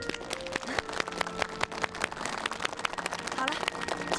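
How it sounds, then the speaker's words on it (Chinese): A small group outdoors at a rural orchard gives a round of applause, scattered hand claps ringing over a steady bed of crowd noise and faint voices. "我们为他这种精神鼓掌吧"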